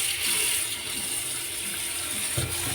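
A steady hiss of water running from a tap into a container, close by and continuous, with a faint clunk near the end.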